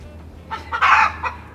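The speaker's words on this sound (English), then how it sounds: "Excuse my hen." A hen lets out a short burst of several clucks, rising into a louder squawk, close by against a quiet background.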